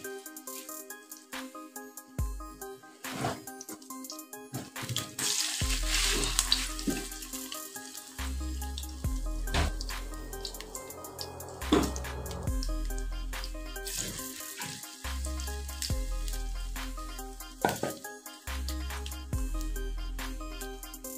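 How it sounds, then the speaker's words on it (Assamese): Curry leaf pakoras deep-fry in hot refined oil in a kadai, giving a continuous close sizzle with occasional stirring rattles, all under steady background music. "এতিয়া মই তেলখিনি গৰম হৈ গৈছে, এতিয়া মই এইখিনি এটা এটাকৈ ফ্ৰাই কৰি ল'ম।"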